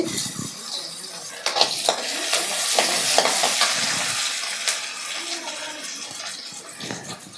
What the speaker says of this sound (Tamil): வெங்காயம் வதங்குது.